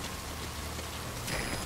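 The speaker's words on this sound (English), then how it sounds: "That rain just won't let up." Steady rain pours down continuously in Metal Gear Solid V: Ground Zeroes, a dense hiss of drops with a slight swell near the end, no voices.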